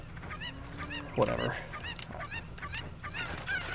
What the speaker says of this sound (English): Where is this chicken?